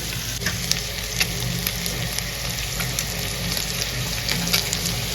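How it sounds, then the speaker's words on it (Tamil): Seer fish fries on a flat tawa griddle with a steady, dense sizzle. Occasional stirring scrapes rise above it, close and continuous, and no voices are heard. "நம்ம தவாவில் தான் வந்து இந்த மீனை வறுக்கிறோம்"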